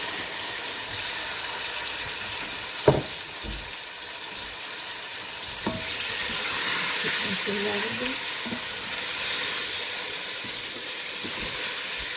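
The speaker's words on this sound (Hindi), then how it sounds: "और अब इसमें हम अपनी चिकन डाल देते हैं।" Chicken going into a hot pot for chicken nehari, a steady loud sizzle and hiss of frying with a sharp clunk near the start and occasional scraping stirs and small knocks.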